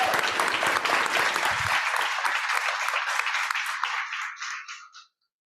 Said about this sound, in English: Let's give them a round of applause to welcome them.